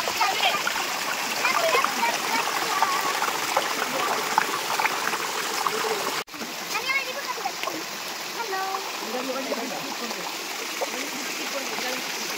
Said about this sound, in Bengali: এই যে ঝর্ণার জল পড়ছে